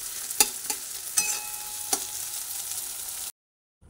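Potato filling fries in a pan with a steady soft sizzle, punctuated by a few sharp scraping strokes as it is stirred, ending in abrupt silence.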